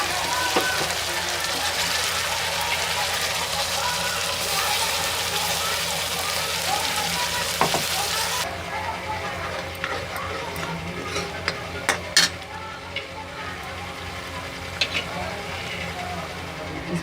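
Onion and tomato paste fries in a pan with garlic and ginger, a broad steady sizzle that drops away partway through and leaves lighter scraping and clicking sounds, close by.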